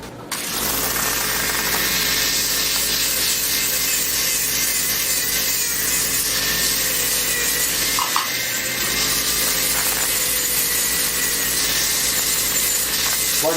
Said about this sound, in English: It's a good drill.